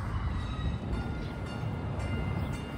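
Steady low rumble of a Baltimore Light RailLink tram rolling along the track, constant and moderately loud, with faint squealing overtones.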